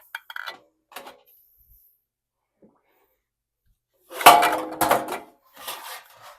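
Freshly dyed yarn is set into a pan with a few light clinks and rustles. A short cluster of louder dull knocks and scrapes follows, then brief handling noise against near silence.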